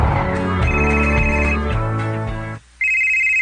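A cellphone rings loudly with a melodic tone that cuts off briefly and then resumes as a single sustained beeping note, close and clear with no talking.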